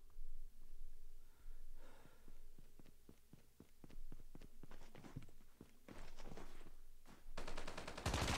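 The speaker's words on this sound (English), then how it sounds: "He just went in firing." Gunfire in the mobile game Call of Duty Mobile: faint, quick volleys of sharp shots build to a dense rapid burst at the end.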